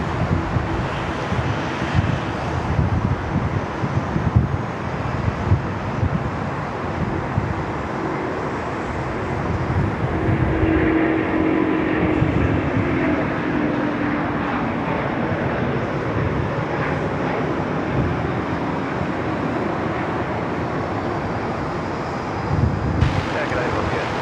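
A China Eastern jet departs Sydney Airport with a buzzsaw engine note, a sustained broad roar heard from a distance with wind buffeting the microphone and air traffic radio voices intermittently over it.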